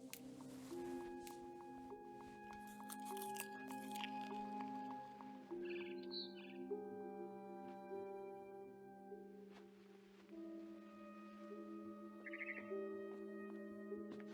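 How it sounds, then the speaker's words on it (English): In What Remains of Edith Finch, a barn swallow outside a window gives a few faint, brief chirps that sit quietly over soft, sustained game music. "It was a barn swallow going back to her nest."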